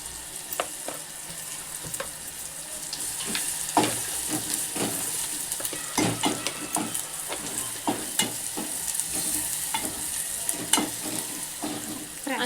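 Onion, tomato and Malvani masala sautéed in a pan for a Malvani prawn curry, with a steady close sizzle broken by frequent sharp scrapes and clacks of a spoon stirring throughout.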